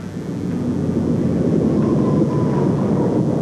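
A Rutan-designed Boomerang twin-fuselage airplane with a forward-swept wing drones steadily overhead, a broad engine roar that swells slightly and holds at moderate loudness, with no voices.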